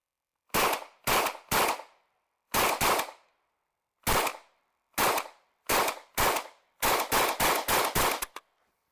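An FN P90 firing in a live-fire demo: about a dozen sharp, loud shots, first in spaced single reports, then a quick rapid cluster near the end, each with a short echoing tail.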